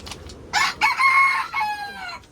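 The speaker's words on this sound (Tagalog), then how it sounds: "May manok." A rooster crows nearby, one long rising call with a trailing tail, over faint background noise.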